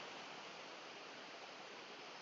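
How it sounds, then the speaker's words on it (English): A small waterfall at Grisedale Tarn in the Lake District, flowing lighter than usual, gives a steady, even rush of falling water, soft and continuous with no talk over it. "It's a lovely little waterfall."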